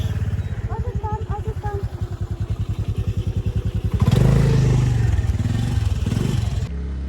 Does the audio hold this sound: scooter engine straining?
yes